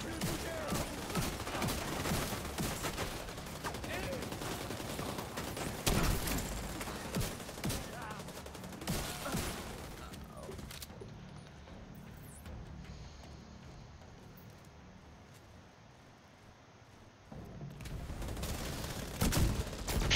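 Gunfire in The Division 2 rattles in dense, loud bursts of shots that drop away into a quieter, muffled stretch before the firing returns, with occasional voices under the shooting.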